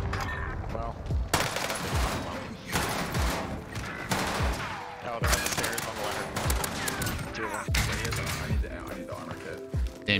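In Call of Duty Warzone on Rebirth Island, a cluster strike sets off a rapid series of loud overlapping explosions and gunfire, repeating in bursts for several seconds with players talking over the chaos.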